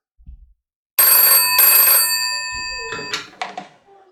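Old telephone's mechanical bell rings loudly in two close bursts, followed by clunks and clicks as the handset is handled.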